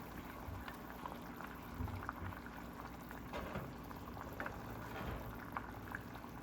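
A pot of egg curry bubbling steadily under a lid, a continuous soft gurgle with small pops and splutters at close range, no voices.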